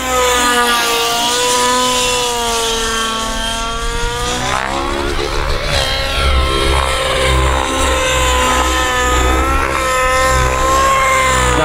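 Fury 55 RC boat powered by an OS Max GT15HZ gas engine runs loud and steady for the whole stretch, its high buzzing note wavering and surging as the throttle shifts, with no voices over it.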